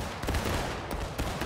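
Musket volley in the War of Rights video game, a burst of several overlapping shots fired almost together on command, loud and close, with further scattered reports trailing after.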